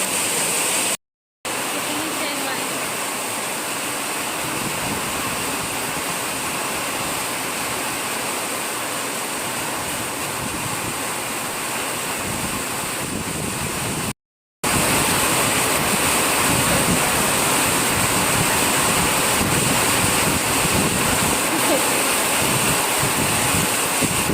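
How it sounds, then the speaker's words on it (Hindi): Heavy rain pours steadily outside an office and shop front where water has flooded the street, a dense, continuous roaring wash with two brief dropouts and no talk. "बहुत तेज़ बारिश हो रही थी और हमारे फ्रंट में यहाँ दुकान के आगे पूरा पानी भर गया था थोड़ी देर के लिए।"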